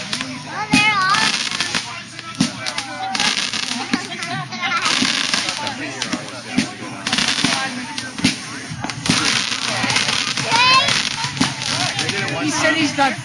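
Fireworks and firecrackers go off through a July 4th night: a steady barrage of sharp cracks, pops and crackling bursts at close to middle distance, with voices chatting underneath.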